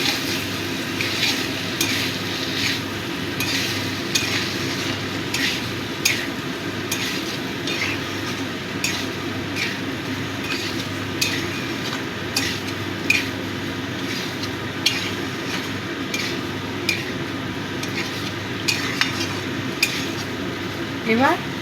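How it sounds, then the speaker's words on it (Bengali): Ginger-cumin paste is stirred by hand in a cooking pot for a cottage cheese curry, making steady close scraping and clinking strokes in an irregular rhythm, with no speech. "এবার ভালো করে মিশিয়ে দেবো।"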